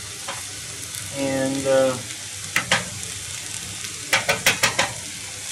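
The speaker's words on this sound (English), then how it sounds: "just saute them up nice and small, nice and slow" Vegetables sautéing slowly in a pan for goulash, a soft continuous sizzle under a brief spoken word and a sustained tone, with a few sharp utensil clicks and scrapes toward the end.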